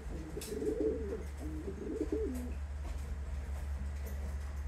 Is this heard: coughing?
no